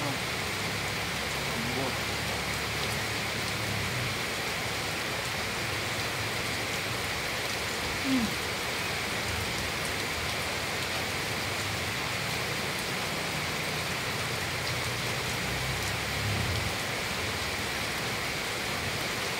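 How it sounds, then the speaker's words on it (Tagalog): Steady rain falls during the rainy season, a dense, even hiss that stays constant and moderately loud for the whole stretch, with no distinct voices heard above it. "Ibasa ka ng ulan."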